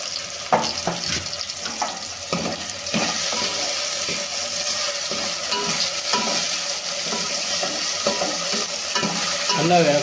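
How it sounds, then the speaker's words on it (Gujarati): Onions and tomatoes being stirred in a frying pan while cooking Maggi: a steady sizzle underneath repeated scraping, clattering strokes of a spoon against the pan, close and continuous. "હલાવ્યા જ્યાં સુધી બળી ન જાય"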